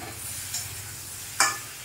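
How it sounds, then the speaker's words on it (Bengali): Small pieces of brinjal fry in a pan with a soft, continuous sizzle, broken by two sharper scrapes of stirring, the second louder. No voices are heard. "তো এইভাবে একটু ভালো করে বেগুনটাকে ভাজতে হবে।"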